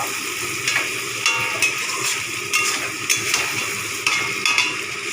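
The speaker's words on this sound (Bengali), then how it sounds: "টমেটো দিয়ে ভালো করে আমি ভেজে নেবো" Tomatoes fry in a pan for chicken curry with a steady, close hiss, broken every second or so by the louder scrape of a spatula stirring through the pan.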